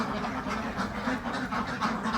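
A flock of ducks quacks steadily and densely at close range while being fed a mixed feed, with overlapping calls forming a continuous, fairly loud chorus and no talking.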